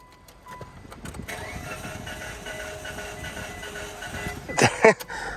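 A car engine with a dry-rot-cracked timing belt cranks with a steady, rapid whirring turnover that runs for several seconds, then catches with a few louder bursts near the end.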